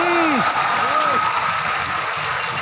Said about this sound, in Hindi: आपकी तालियां कमजोर थी